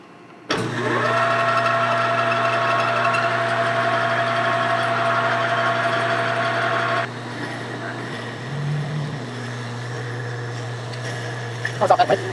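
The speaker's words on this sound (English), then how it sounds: "Let's go to the lathe." A metal lathe in a bicycle sprocket workshop starts up with a sharp onset and runs as a steady, close mechanical whine and hum, then drops to a lower drone partway through, with a few small clanks near the end.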